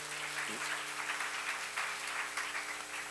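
Seminar audience applause during a lecture on the Book of Numbers, a steady spread of clapping for about three seconds with a faint tonal hum running underneath.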